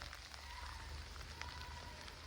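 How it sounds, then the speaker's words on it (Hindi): Rain falling in a hill-station forest near Nahan, a faint steady patter of drops on leaves and ground with soft scattered ticks, quiet and continuous without talking. "बारिश की बूंदों की भी आवाज़ आ रही है और मेरे पैरों की भी आवाज़ आ रही है"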